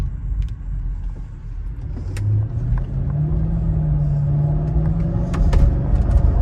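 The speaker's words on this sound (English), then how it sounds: "the car just needs to be driven" A 2003 Mercedes SL500 with a coilover conversion cruising on a Pennsylvania road, steady low engine and road rumble heard from inside the cabin, with a faint rise in engine pitch midway and no talk.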